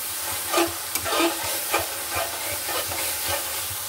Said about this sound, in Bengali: মশলাটা আমি ভালো করে কষিয়ে নিচ্ছি যেন মশলার গন্ধটা না আসে